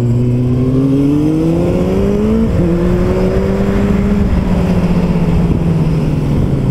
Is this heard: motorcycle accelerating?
yes